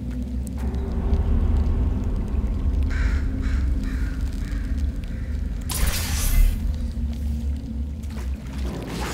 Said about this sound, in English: Why the fuck are there birds down here?